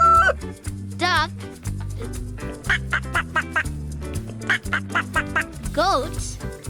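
A duck quacks in a rapid run of short, evenly spaced calls over a bouncy music bed, with brief voice-like squeaks at the start and end.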